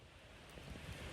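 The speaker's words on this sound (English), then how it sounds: "It's quite windy here actually now I've got down to the beach." Gusty wind roars and buffets the microphone over a low rush of surf at a beach in Benidorm Poniente in November, continuous and fairly loud throughout.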